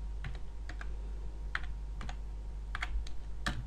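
Keys clack in irregular bursts on a computer keyboard while a WordPress admin login is entered, sharp close taps separated by short pauses over a steady low hum.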